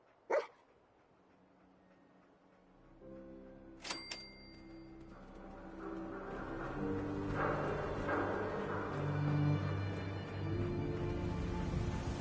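Dogmeat, the canine companion in the video game Fallout 4, gives a sharp bark and then a second brief one, after which swelling in-game music and ambience take over.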